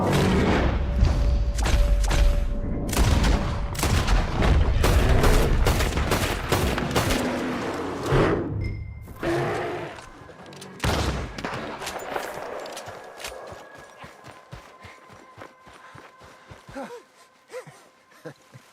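Gunfire crackles in the video game Red Dead Redemption 2, a dense barrage of rapid shots and thuds for several seconds, then scattered single shots that thin out and fade over an outdoor backdrop.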